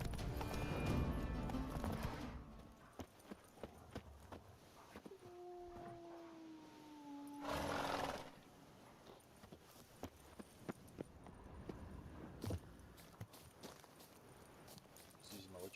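A horse galloping in The Witcher game, hoof clip-clops pattering under game ambience, with a brief whinny and people talking at times.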